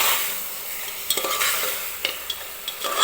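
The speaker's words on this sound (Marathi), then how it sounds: "2 ते 3 मिनिटे मी असंच या मटणाला छान असं कांद्यासोबत भाजून घेतलेलं आहे" Mutton being roasted with onions in a pan, a bright steady sizzle with a few light stirring scrapes and taps scattered through, close and fairly loud, no voices.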